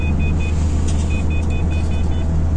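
A car drives along a misty morning road near Zagreb, Croatia, giving a steady, loud rumble of engine and tyres with a faint repeating beep above it, and no voices.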